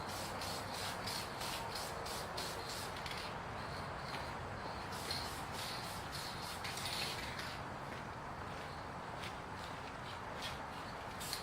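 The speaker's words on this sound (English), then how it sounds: "Now all my products I do like to hit with a adhesion promoter." A Duplicolor adhesion promoter aerosol can sprays a light coat onto repainted Hella horns, giving a steady, quiet hiss that runs the whole time with faint shuffling handling noises.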